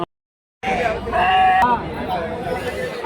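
Young goats bleat at a busy goat market in Karimangalam, with several calls rising over crowd chatter and general hubbub close by after a brief silence at the start.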